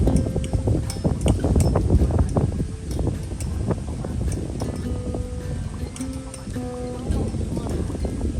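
Wind blowing at a fruit farm campsite in the early evening, a steady rushing breeze on the microphone under people chatting, with faint clinks of objects nearby.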